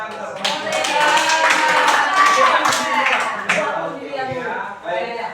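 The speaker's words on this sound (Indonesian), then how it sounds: "Oke, tepuk tangan." Audience clapping at a positive-culture workshop, the claps mixed with lively voices and chatter throughout, steady and fairly loud with a brief dip near the end.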